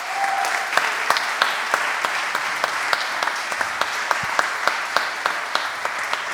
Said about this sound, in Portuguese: Um grande aplauso para os três!